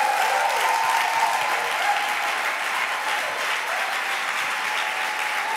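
A church congregation gives God a long, loud round of applause, dense clapping that carries on steadily with a few voices cheering inside the crowd.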